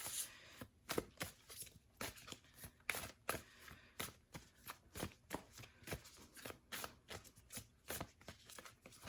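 Oracle cards shuffled by hand in a steady run of crisp riffling flutters, close and fairly quiet, with no talking.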